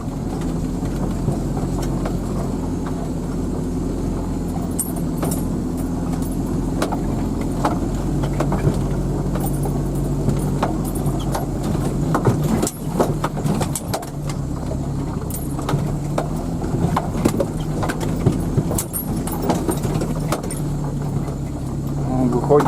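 A car drives a rough road toward a river, with a steady low engine and road rumble throughout and occasional knocks and rattles from the cabin, heard from inside under a man's speech.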